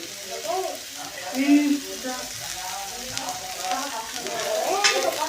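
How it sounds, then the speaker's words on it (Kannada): Green chillies fry with softened onions in a pan, giving a close, steady sizzle with stirring scrapes and small rises in loudness. "ಇದಕ್ಕೆ ಈಗ ಹಸಿಮೆಣ್ಸಿನ್ಕಾಯಿ ಹಾಕ್ತೀನಿ ರೀ."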